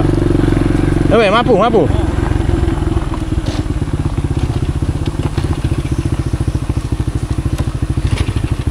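A teacher's motorcycle with an electrical connector problem runs with a steady low engine throb, close and loud, while a person speaks briefly over it.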